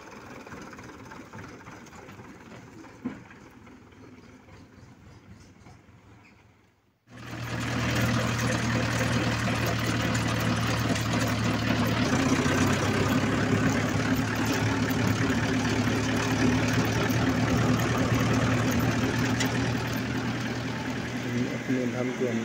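Quiet surroundings give way to a Mahindra 475 DI tractor engine starting up and idling steadily with a low, throbbing rumble, close by.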